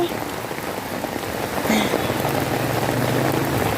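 Heavy rain pours down steadily during a flood, a dense, loud hiss of drops drumming on surfaces. A faint low hum runs underneath.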